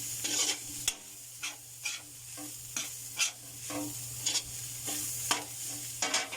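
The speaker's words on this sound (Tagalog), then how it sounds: "Halo-halo lang tayo." Smoked fish (tinapa) is stirred into palabok sauce in a hot pan: a quiet, steady sizzle broken by repeated scraping strokes of a utensil at an irregular rhythm.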